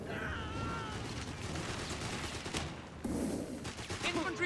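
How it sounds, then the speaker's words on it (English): Gunfire from a World War II battle in the strategy video game Company of Heroes 3: dense, continuous rattling shots under a steady battle roar, with a sharper burst near the end. "Sapper's under fire here!"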